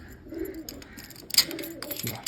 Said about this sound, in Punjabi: ਕਬੂਤਰ ਵੀ ਕਿਵੇਂ ਨੇ